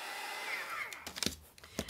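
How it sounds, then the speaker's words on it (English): A heat gun blows a faint, steady airy whir while drying a paper journal page, then cuts off, followed by a few soft taps and handling noises. "I'm just using a heat gun here."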